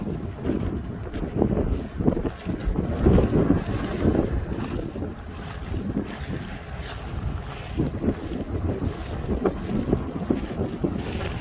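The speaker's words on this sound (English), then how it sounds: "Windy." Steady wind gusting across an open, muddy oat stubble field with straw down, a loud continuous rumbling buffet against the microphone throughout, no voices.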